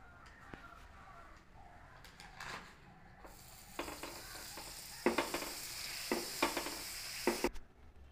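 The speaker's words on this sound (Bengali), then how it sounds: "মাখনটা এবার দিয়ে দিচ্ছি তাওয়াতে, দেন স্টিকগুলোকে নিয়ে সাজিয়ে দেবো।" Chicken kebab sticks are laid into melting butter on a hot tawa, bringing on a soft sizzle with clinks and scrapes of the sticks being arranged, close and moderate; faint cooing birds are heard earlier.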